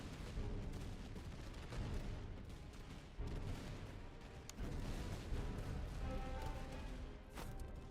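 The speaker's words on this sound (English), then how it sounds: "Make sure our artillery is firing." Artillery fire in the Master of Command battle game booms steadily in a dense, rumbling barrage, shots overlapping with sharper cracks and a distant, continuous battlefield roar.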